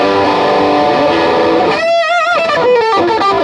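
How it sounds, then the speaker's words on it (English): A sustained overdriven electric guitar chord through a Fender Deluxe Reverb with an overdrive pedal gives way to a quick bent melodic run with warbling vibrato. "And add in the overdrive pedal"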